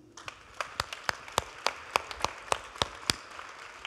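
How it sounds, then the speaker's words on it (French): Sparse, small applause from a few audience members at an annual entrepreneur pitch event, a dozen or so separate crisp claps spaced out, quiet and thin in a room. "Ça, c'est des petits applaudissements."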